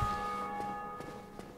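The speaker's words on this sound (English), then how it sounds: "Oh, bell rang again." A church bell tolls in the Dark Souls video game, a faint ringing tone that sustains and decays, with a few soft knocks in the background.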